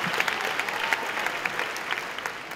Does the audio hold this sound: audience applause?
yes